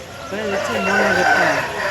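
A Busuda rooster, 24 in tall and about 3 kg, crows in a long wavering call at a Pileru Sunday poultry market, close by over a steady background of market bustle.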